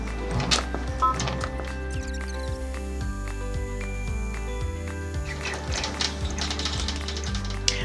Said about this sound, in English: Now I'm going to go ahead and I am going to run my placement stitch.